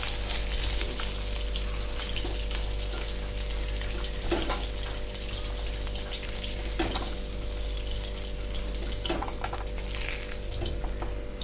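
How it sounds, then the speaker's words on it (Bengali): Katla fish pieces frying in a pan, a steady loud sizzle running the whole time with a few brief clatters as the pieces are turned, over a constant low electrical hum. "মাছগুলোকে একটু উল্টিয়ে পাল্টিয়ে ভালো করে ভেজে নেব"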